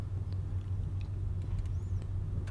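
A Nissan Sentra with 159,000 miles driven through all its gears into overdrive, heard from inside as a steady low engine and road rumble that stays even and continuous, with no voices.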